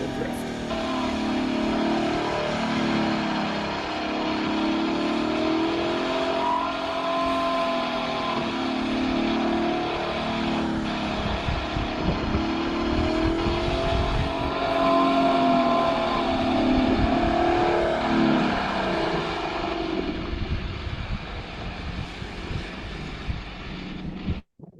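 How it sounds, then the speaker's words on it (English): An autonomous car drifts on wet asphalt. Its engine roars steadily, the pitch rises and falls as it slides through repeated swings, and road and wind noise form a loud, continuous wash throughout with no voices. "as the vehicle kind of rolls onto the wet asphalt, you'll see a little bit of initial understeer"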